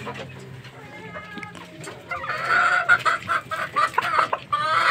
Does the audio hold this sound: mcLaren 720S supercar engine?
no